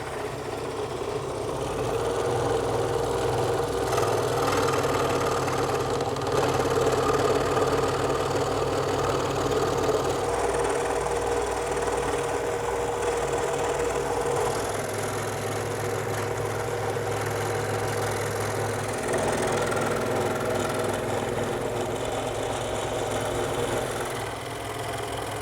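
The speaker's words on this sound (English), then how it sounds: "even with the 20-inch throat on my scroll saw" A scroll saw with a 20-inch throat cuts wood with a continuous, fast buzzing chatter that holds steady and close for the whole stretch, without speech.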